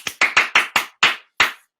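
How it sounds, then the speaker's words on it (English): A person claps their hands seven times in an uneven rhythm, with sharp, loud, close slaps and short gaps between them, with no other sound in the background. "But if I clap"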